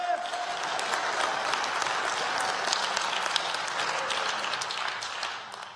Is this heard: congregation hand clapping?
yes